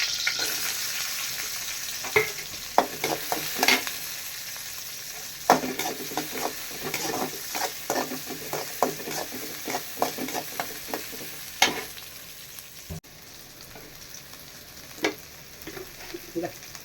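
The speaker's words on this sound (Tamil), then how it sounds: "இப்போ சின்ன வெங்காயம் போட்டுக்கலாம்." Small shallots fry in a pan for a mutton curry, a continuous sizzle punctuated by frequent scraping and clacking stir strokes nearby, some louder than others.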